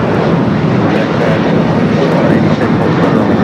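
An ITA Airways airliner bound for Rome heads to runway 24 left on the north side of Los Angeles airport, its engines producing a loud, steady, broadband roar that stays constant throughout, with no talking.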